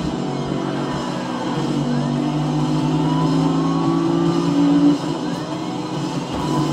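A car engine drones steadily in Need for Speed Rivals during an RCPD rapid response run, a continuous close engine hum with shifting pitch and a brief bump near the end.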